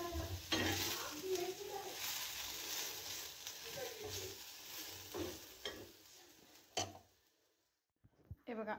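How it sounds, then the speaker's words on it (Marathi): Alu vadi, colocasia rolls, fry in hot oil with a busy crackling sizzle and scraping stirs, fading to quiet near the end; someone talks over it. "आळूच्या वड्या भाजून तेलात फ्राय करून आता तयार होत आहे"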